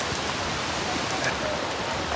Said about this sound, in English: I've never been in the torrential downpour.